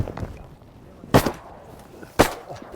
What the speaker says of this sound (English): Good shot, Dave.